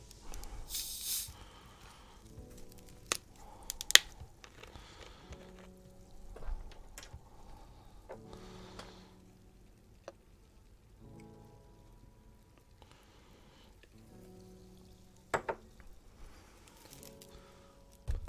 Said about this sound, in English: let me mix it with the club soda now